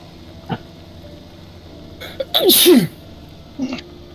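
A single sharp sneeze nearby, a sudden loud burst of breath, with a small sniff before it and a brief vocal sound after; the setting is a multiplayer Farming Simulator 17 session.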